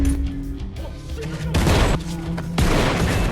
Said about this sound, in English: The explosion ripped through the area.